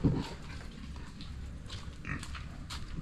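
Black pigs on a farm grunt in low, rough bursts, several overlapping snorts near and fairly loud against a steady background rumble.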